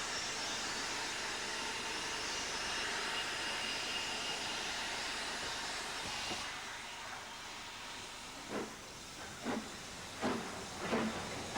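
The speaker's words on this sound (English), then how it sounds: "the 4F draws out onto the main line before setting back to collect its goods train from the goods shed road" An LMS 4F steam locomotive draws out onto a main line, giving a steady broad hiss of steam for several seconds that eases off into a few soft, spaced chuffs and knocks.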